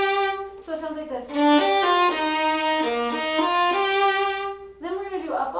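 A violin plays a short phrase from Gypsy Waltz in a lesson setting, a run of bowed notes with clear rich harmonics, moving step by step with some slurred pairs, close and steady for about five seconds.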